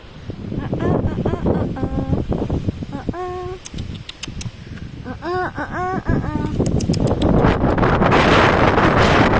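Strong winter wind in France roars and buffets the microphone, loud and constant, while people talk and call out over it.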